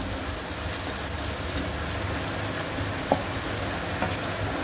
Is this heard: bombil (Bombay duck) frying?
yes